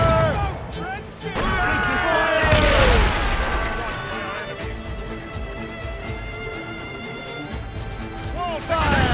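Ship cannon fire in Assassin's Creed Rogue during a naval chase, with loud booming blasts and crashing impacts over a dense battle din, while voices shout orders throughout.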